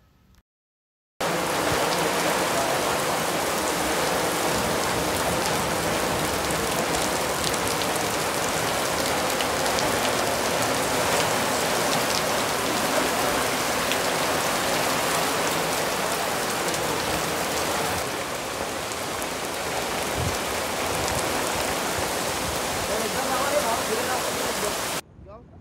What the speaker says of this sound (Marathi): तोपर्यंत पाऊस आलाच.